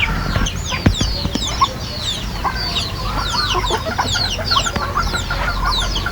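Several chickens cluck and chatter close by in a steady, busy stream, with occasional louder squawks over a low outdoor background.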